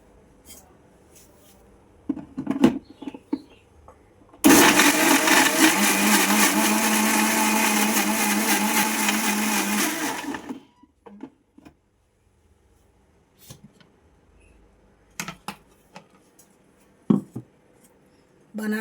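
A blender whirs loudly and steadily for about six seconds, mixing a banana mango milkshake with organic jaggery and ice-chilled milk, framed by quiet kitchen clinks and taps before and after.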